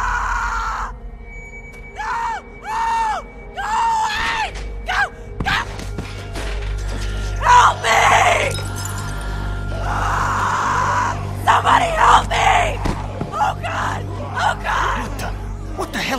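A girl's screams and gasps come from The Walking Dead: Season One video game, Episode 3, in a string of loud, close bursts with thuds and groans, and characters talk in between.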